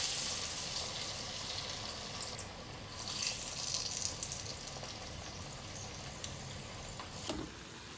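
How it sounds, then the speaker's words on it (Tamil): Hands being washed under a running kitchen tap while cooking kadala vadai, a steady broadband rush of water splashing into a sink, fairly close and continuous with a brief louder splash near the end. "அடிக்கடி கையை கழுவுங்க."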